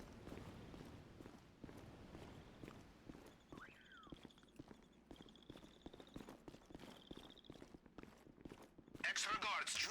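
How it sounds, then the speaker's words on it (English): Heavy juggernaut footsteps in GTA Online stomp in a steady, repeated rhythm of thuds, moderately close, under faint electronic beeps and a brief burst of noise near the end. "Of course, you hear the juggernaut stomping around."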